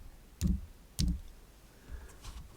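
A search being typed on a computer keyboard: two distinct close keystroke clicks about half a second apart, followed by a couple of fainter taps, quiet with no talk.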